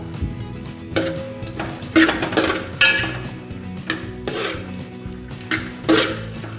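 Metal utensil scraping and clinking against a pan while carrots and beans are stirred for egg fried rice, a steady rubbing scrape with several sharper clanks at irregular moments, close and moderately loud.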